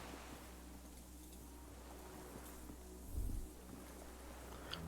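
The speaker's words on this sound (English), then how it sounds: "Distant sound of cargo ships, signal horns echo on the water." Low, steady rumble of distant cargo ships drifting over harbor water in Disco Elysium, with a brief deeper horn-like swell rising near the end amid a continuous airy wash of wind and surf.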